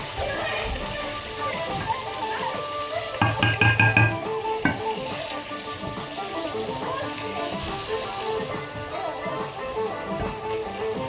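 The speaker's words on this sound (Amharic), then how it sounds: "ቅቤ ነው እየጨመርኩ ያለው።" Butter sizzling in a pan as it is stirred, a steady crackling fry with scraping strokes and a few louder knocks, close up and continuous.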